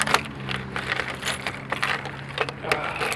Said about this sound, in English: It's got a gas tank on top that you put the key in, then you turn,